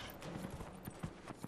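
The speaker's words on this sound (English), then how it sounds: "Horse riding," Horse hooves clip-clopping during a horse race in the video game Dragon Age: Inquisition, a quick irregular trot of soft thuds, faint and steady with no voices over it.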